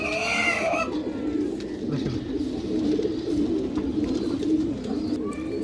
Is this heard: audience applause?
no